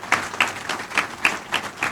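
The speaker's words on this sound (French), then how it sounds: "Dr Jules Kébé, que je vous demande d'applaudir chaleureusement" Applause at a groundbreaking and headquarters inauguration ceremony for a pharmaceutical company comes through as fairly faint, evenly spaced claps in a steady rhythm, several beats in quick succession.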